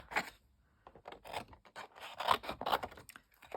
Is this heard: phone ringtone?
no